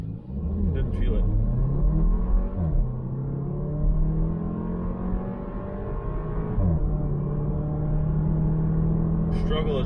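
A Porsche Macan's 4-cylinder engine pulls hard from a launch, rising in pitch with a clear drop at each gear change, droning steadily inside the cabin while a person talks over it.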